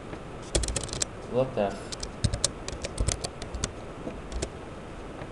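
Someone types a folder name on a computer keyboard, with a burst of rapid, crisp key clicks spread over several seconds while a voice briefly speaks over them.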